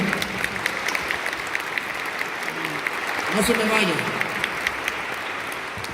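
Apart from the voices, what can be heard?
congregation applause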